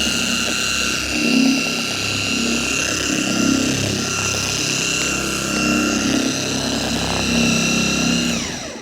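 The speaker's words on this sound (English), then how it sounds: "Then start the buffer with the fourth gear." A car polisher buffer spinning at its fourth speed setting on a compound-covered paint panel, a steady loud droning whir that holds level throughout with slight swells in pitch as the pad works.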